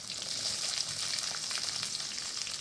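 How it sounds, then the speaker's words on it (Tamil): Fennel seeds and spices spluttering in hot oil, a steady, fairly quiet crackling sizzle with fine popping throughout. "சோம்பு நல்லா பொரியணும்"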